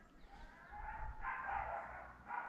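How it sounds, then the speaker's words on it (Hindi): A dog barks somewhere in a Himalayan forest near Narkanda, a few muffled, distant barks in a loose run against quiet outdoor ambience, with no talk. "मुझे कुत्ता सुनाई दे रहा है"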